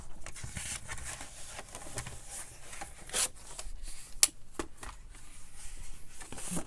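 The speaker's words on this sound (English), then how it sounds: "So I am going to cut off the rough edge." Scissors or a blade cutting the rough edge off a book page, soft rustling paper rubs with a few sharper snips, close and quiet, with no talk.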